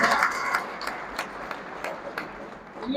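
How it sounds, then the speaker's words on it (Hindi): Applause from the crowd at a pigeon sports club event in Bishnah, Jammu, a steady patter of many hands clapping with no gaps, fairly loud and close, with scattered sharper claps standing out. "जोरदार तालियां यार"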